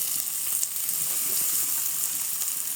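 Onion and a ground cumin-garlic paste sizzle steadily in hot oil in a pan, a constant close frying hiss with no talk over it.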